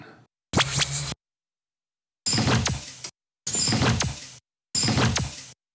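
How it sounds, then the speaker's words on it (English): Sci-fi sound effect resembling a sliding door closing, heard as four separate swooshing whooshes with a sharp mechanical edge, each ending abruptly, separated by silence. "It's almost more of like a door closing sound."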